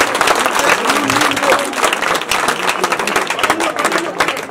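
A village audience at a welcome ceremony claps loudly and continuously, a dense close applause that fills the whole stretch without letup.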